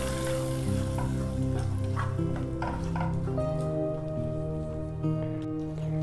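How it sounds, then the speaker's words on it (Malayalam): Tomato chutney stirred in a frying pan, a soft scraping and squishing under a loud continuous steady hum, with occasional faint clicks from the spoon. "നന്നായിട്ടൊന്ന് മിക്സ് ചെയ്ത് കൊടുക്കുക."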